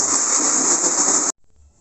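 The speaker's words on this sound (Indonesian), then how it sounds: "Setelah semua bahan dipotong, masukkan ke blender." A loud, steady motor whine with a harsh hiss runs for a second or so, then cuts off abruptly into near silence.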